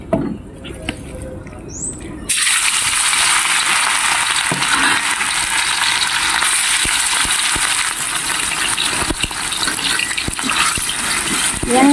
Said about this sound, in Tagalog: fry tayo ng beef. Ng beef, guys, na may turmeric.